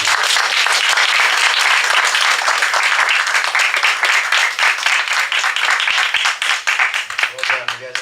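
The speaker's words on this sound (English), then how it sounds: "Let's have a round of applause for all the candidates." Dense, loud applause from an audience at a 2014 Portland candidates forum, continuous clapping that thins slightly toward the end as a voice begins to speak.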